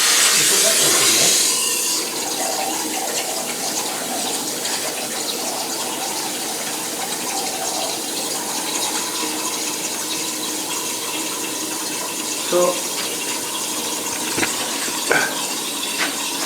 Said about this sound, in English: So it's pulling coolant out